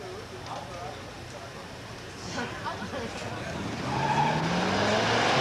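Muscle cars drag racing at Beech Bend in 1985, an AMC Javelin launching off a green light start: engines rev and tires chirp, then roar louder as the cars pull away, with a commentator talking over it.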